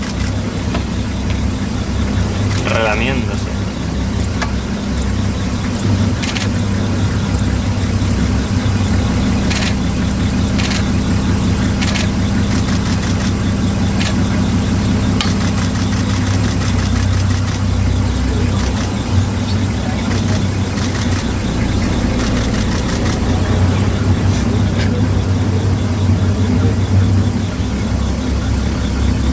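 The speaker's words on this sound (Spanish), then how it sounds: "Estamos dando marcha atrás aquí con el coche porque el león viene detrás de como un loco." A car reverses on a dirt track in Eswatini with a lion following close behind, its engine droning steadily at a low, even pitch throughout, with faint clicks and a brief voice near the start.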